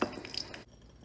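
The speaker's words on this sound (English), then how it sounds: "Let me drop some water on." Water drops onto a surface superheated by a Bunsen burner and sizzles with a short burst of hissing and crackling, close and fairly loud, then cuts off into quiet.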